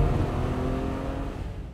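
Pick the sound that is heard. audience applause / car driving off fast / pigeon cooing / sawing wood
car driving off fast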